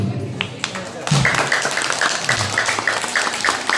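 Applause from a crowd at a government lower primary school learning festival, steady broad clapping that swells after a brief lull and carries on through the rest, with voices mixed in.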